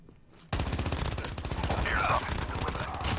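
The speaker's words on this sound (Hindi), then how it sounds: "आगे जाके फायरिंग हो रही है, अब आवाज़ आ रही है मुझे।" Rapid automatic gunfire in a battle royale video game, a dense continuous burst of shots that starts abruptly and stays loud to the end.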